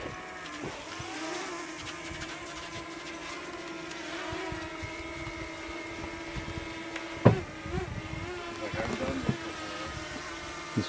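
A small drone buzzes overhead outdoors near an iced-over cabin area, a steady high whine with shifting pitch that persists throughout, broken by a sharp clatter partway and some nearby rustling.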